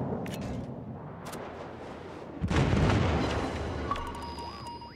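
Naval artillery in a World of Warships battle: sharp distant reports crack out early, then a heavy booming salvo and explosion rumble swells midway and fades, with faint electronic tones near the end.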